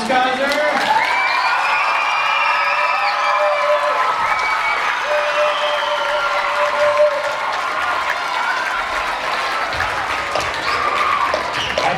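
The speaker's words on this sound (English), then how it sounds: "First round of applause for Ms. Kaiser." An audience applauds loudly and continuously, with scattered cheers and whoops mixed into the steady clapping throughout.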